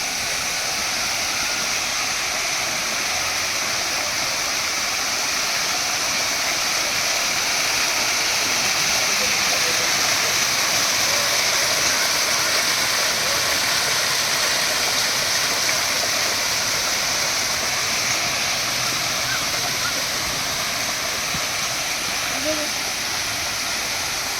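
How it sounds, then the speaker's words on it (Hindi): A waterfall at an eco mine tourism park roars with steady, broadband rushing water, constant and fairly close throughout. "ये वाटरफॉल भी देखना तो झरना।"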